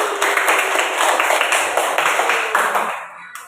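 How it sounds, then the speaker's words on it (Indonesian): A classroom of students claps for themselves in a lesson on adding and subtracting decimals, a dense continuous round of applause close by that fades out at the end. "Kita beri tepuk tangan dulu ke diri kita sendiri."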